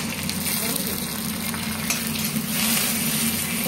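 Potatoes for aloo fry crackle steadily in hot oil with mustard seeds, cumin and curry leaves, a dense, continuous close sizzle with no talking.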